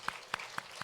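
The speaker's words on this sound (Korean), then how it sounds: "우리 큰 박수로 환영하겠습니다" A church congregation applauds in welcome of a newcomer at a Sunday morning service, four evenly spaced claps heard faintly within a very short moment.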